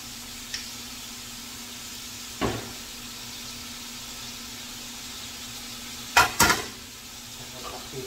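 Onions fry in a pan with a soft steady sizzle, broken by a few clanks and scrapes of a utensil and cookware.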